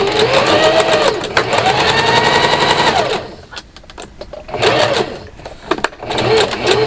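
A home sewing machine back stitches pants fabric in rapid mechanical bursts, loud and close, with short pauses between runs of stitching as it moves from one dot to the next.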